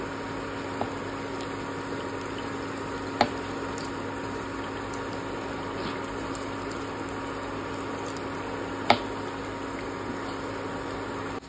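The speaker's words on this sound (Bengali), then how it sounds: "এই যে বেগুনি ভাজতে বসিয়ে দিয়েছি" Brinjal fritters (beguni) frying in hot oil give a steady, even sizzle throughout, broken by a couple of sharp pops, with no talking.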